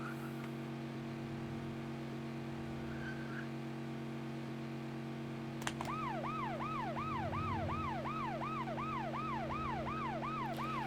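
Police car sirens wail in Scarface: The World Is Yours, a rising and falling electronic siren starting abruptly midway and cycling steadily over constant engine hum and traffic drone, moderately loud and close.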